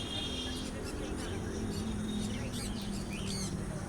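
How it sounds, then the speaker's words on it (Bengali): Pineapple conures calling at a busy bird market, with high chirps and tweets scattered through steady market din and background voices. "এবারে দেখতে পাচ্ছেন পাইনঅ্যাপেল কনুর।"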